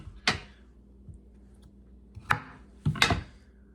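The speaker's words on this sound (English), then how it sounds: "Just going to go ahead and chop that to get perfect." Three sharp knife chops on a cutting board while preparing ingredients for chicken with orzo, spaced apart with quiet gaps, close and distinct.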